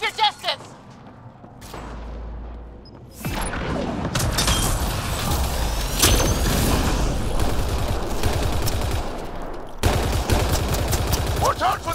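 Rifle fire in the Mass Effect Andromeda video game: sharp bursts of shots ring out, then a dense stretch of rapid gunfire and impacts runs on for several seconds amid game effects.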